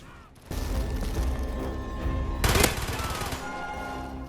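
Mortar strikes in Call of Duty: Black Ops land with a sudden heavy burst, then a rumbling barrage of blasts and gunfire peaking in one sharp crash before settling into steady battle noise.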